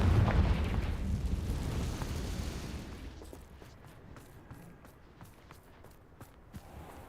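A Confringo blasting spell goes off in Hogwarts Legacy: a loud, rumbling explosion with a long decaying roar, followed by scattered fainter crackles and pops as debris settles.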